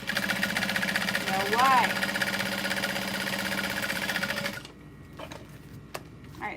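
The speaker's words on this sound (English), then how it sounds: "I'm top stitching along 3 sides of the strap" Industrial sewing machine top stitching along the sides of a backpack strap, a loud steady mechanical whirr running for about four and a half seconds before stopping, followed by a quieter stretch with light handling clicks; a voice speaks briefly over it.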